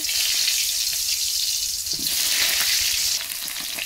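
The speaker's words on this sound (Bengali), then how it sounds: "তেলটা কিন্তু আমার এখন গরম হয়ে গেছে, আমি পটলগুলো দিয়ে দেব।" Pointed gourds (potol) fry in hot oil, a continuous hissing sizzle close by that swells and eases, with light stirring and splashing textures and no talk.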